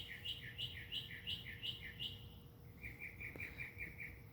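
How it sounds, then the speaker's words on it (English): Birds chirp in quick repeated phrases of bright whistled notes, one pattern giving way to another, over a low steady background hum in a quiet predawn setting. "I just want you guys to be able to hear the birds singing right now."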